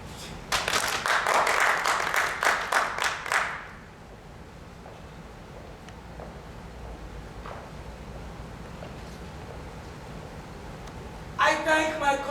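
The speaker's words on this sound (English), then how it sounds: "Can we applaud now?" Audience applause after a stage performance, a burst of clapping from a crowd for about three seconds that quickly fades, followed by quiet room tone and another short round of clapping at the end.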